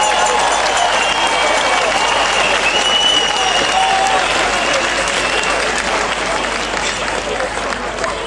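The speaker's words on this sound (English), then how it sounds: "So please give a round of applause for Mark." Sustained crowd applause at an outdoor animal rights march in London, dense steady clapping from many people holding for about eight seconds before easing slightly toward the end.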